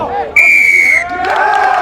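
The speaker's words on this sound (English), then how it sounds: "welcoming that decision with a round of applause" A loud referee's whistle blast cuts through the crowd noise at an under-20 rugby match between Scotland and Japan, followed by a swelling roar and applause from a packed main stand.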